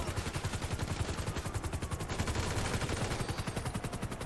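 Rapid, evenly spaced assault rifle bursts in GTA V hammer away in a steady rhythmic stream, moderately loud and uninterrupted by talk.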